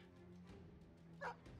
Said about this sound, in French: Du coup, on va lui filer le chien.